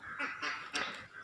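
Ducks on a small rainwater pond at a dairy farm in India give nasal honking quacks in a few quick bursts, fairly close and clear, with faint background noise.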